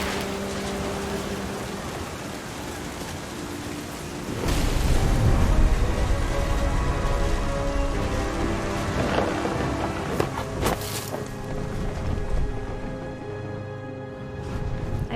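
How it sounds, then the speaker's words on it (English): A thunderstorm in the video game What Remains of Edith Finch: steady rain and wind with a deep, loud thunder boom rolling in around the middle, followed by lingering rumbles, all layered over sustained music tones. "The thunder sounded much too close and full of angry power."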